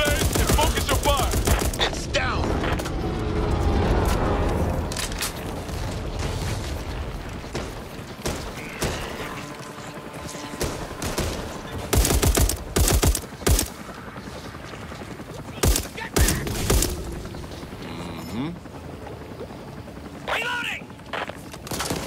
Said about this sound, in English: Use the grenades and focus your fire!